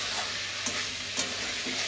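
Squash and potatoes sautéing with ginger, cumin and chilli paste over five-spice tempering, with a steady sizzle under a few light taps of a stirring spoon.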